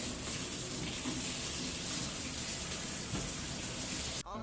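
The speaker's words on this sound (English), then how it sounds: "you can either wash your onion or leave the water running" A kitchen tap runs steadily with a constant hiss of flowing water while an onion is cut, close and unbroken for several seconds before a brief break at the end.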